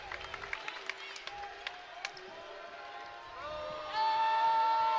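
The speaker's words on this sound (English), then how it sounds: "Alexis Whitfield again with a well-deserved applause coming to the bench" Crowd at an Oregon Ducks versus Nevada Wolfpack women's college basketball game applauds a player heading to the bench, with scattered claps and cheers building into steady, fairly loud applause and a whistle-like tone near the end.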